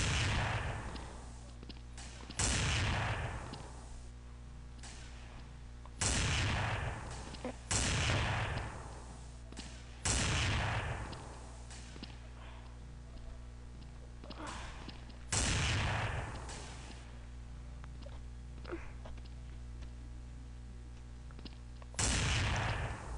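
Video game gunfire rings out in a string of loud, sharp shots, six or seven spaced bursts a few seconds apart with a steady game hum between them, and no speech over the shots.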